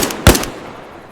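A single three-round burst from a rifle in Arma Reforger cracks out sharply and close, its shots tightly bunched, then fades quickly into a short echo.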